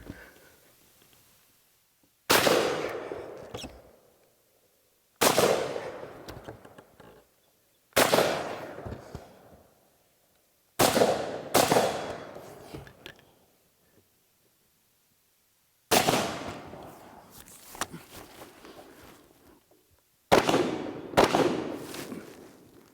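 An IWI Tavor X95 rifle fires a series of loud, sharp single shots from the prone position, several seconds apart and sometimes in quick pairs, each shot ringing out in a short echoing tail.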